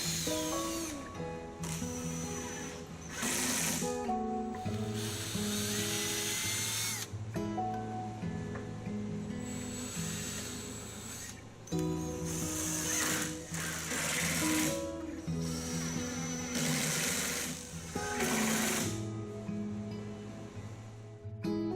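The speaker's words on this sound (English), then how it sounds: "attach the first of the 1 by 2 inch by 8 foot edge boards with 2 inch coated deck screws" A power drill repeatedly drives two-inch coated deck screws into one-by-two edge boards on a plywood storage cart, in a series of loud whirring bursts that rise in pitch as each screw seats, with short pauses between.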